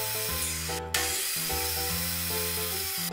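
A power tool whines while cutting wooden boards for Montessori counting rods, a loud tonal buzz with shifting pitch and short stops and restarts, close to the microphone, no talking.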